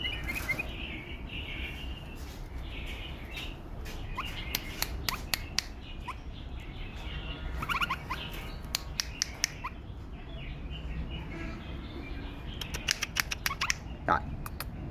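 Two-year-old mated pair of tame bulbuls give scattered short chirps and sharp snapping calls over a steady noisy background, brief clusters recurring across the clip.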